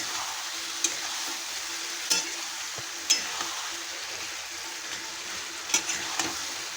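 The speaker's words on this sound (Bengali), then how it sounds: "এখন খুব ভালো করে কষিয়ে নেব।" Potatoes and pointed gourd sauté in a pan for an egg curry, with a continuous close sizzle and periodic scraping knocks of a spatula stirring, no talking.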